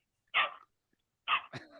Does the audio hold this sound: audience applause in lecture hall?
no